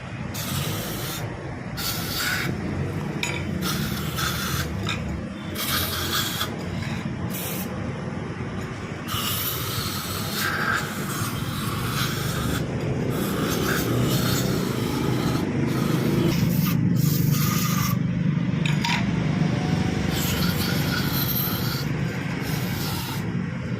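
CVT cleaner sprayed from an aerosol can onto a Skygo KPV 150 scooter, with repeated hissing bursts of varying length against a constant background rumble.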